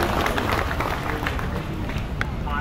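A large crowd at an Indonesian labour rally in Bekasi claps and cheers continuously. The sound is dense and steady at close range, with general crowd noise mixed in.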